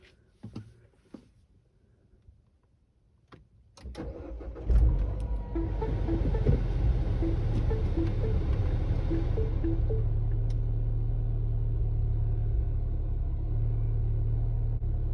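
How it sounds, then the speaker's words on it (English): A 2008 Mini Cooper S with a newly installed high-pressure fuel pump cranks and fires after sitting overnight, a few clicks and thumps first, then catches about four seconds in and settles into a steady, loud, close idle rumble. "Let's see if she fires up after sitting all night."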